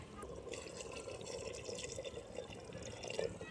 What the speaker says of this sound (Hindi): तो अभी मैं इसके अंदर पानी डालूँगा तकरीबन एक गिलास